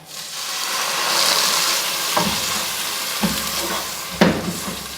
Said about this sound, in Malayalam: ഇതിലേക്ക് കാൽ കപ്പ് വെള്ളം ഒഴിച്ചു കൊടുക്കാം കേട്ടോ